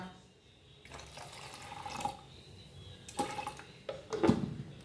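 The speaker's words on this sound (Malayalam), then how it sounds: "കുറച്ചും കൂടി വെള്ളം ഒഴിച്ചു കൊടുക്കാം കേട്ടോ" Water pours into a blender jar while coconut juice is being made, a soft, uneven splashing trickle with a few brighter splashes near the end, fairly quiet and close.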